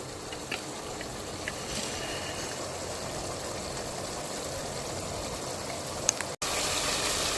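Hot water pours steadily into a pot of rice and tomato masala, a continuous close gushing and filling sound with a brief break near the end.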